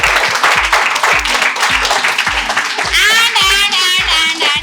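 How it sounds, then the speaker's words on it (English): Group clapping at a felicitation ceremony for a student speaker, loud and close with a fairly regular rhythm, accompanied by a steady thumping beat and cheering voices over the top. "Clap for Adarsh, guys."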